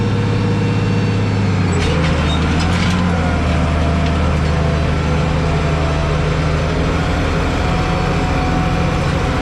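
An International Harvester 1486 tractor pulls a chisel plow, its diesel engine a steady, loud, low drone under load with a continuous rumble throughout and no talk.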